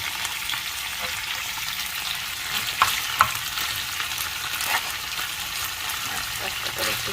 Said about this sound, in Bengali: আস্তে করে একটু ভাজা ভাজা করে নিলেই এটাও রান্নাও শেষ হয়ে যাবে